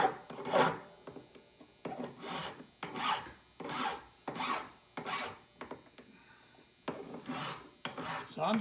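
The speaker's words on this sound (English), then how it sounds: "I'm going to take my file here, and I'm going to" A hand file rasping along the edge of a metal pendant: about nine rhythmic back-and-forth strokes, close and clear, each a gritty scrape with short gaps between, no voices.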